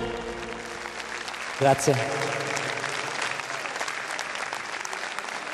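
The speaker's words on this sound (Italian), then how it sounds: "Prenditi l'applauso" Audience applause at a fashion show in Sulmona, steady loud clapping throughout, with a short burst of voices and a spoken word over it partway through.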